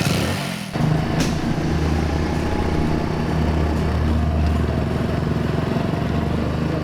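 A motorcycle engine starts up and runs with a steady, loud low-pitched rumble close by, holding a constant idle-to-cruising drone throughout.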